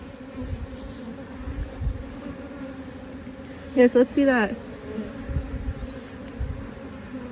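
Honey bees buzzing around a beehive during queen rearing: a steady low hum fills the background, with a brief voice in the middle.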